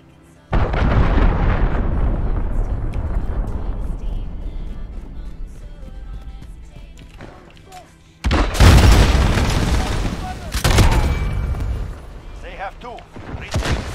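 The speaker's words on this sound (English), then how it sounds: "Enemy cruise missile." Cruise missile strikes in a video game, two deep booming blasts, the first rolling off into a long rumble and the second arriving several seconds later with a sharper crack and crackling debris.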